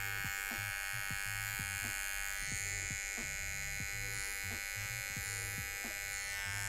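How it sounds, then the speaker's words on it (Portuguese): An electric hair trimmer buzzes steadily and up close while the edges of a fade haircut are finished at a barbershop, its hum continuous with regular small pulses and no talking. "Vamos usar a máquina de acabamento agora, rapaziada"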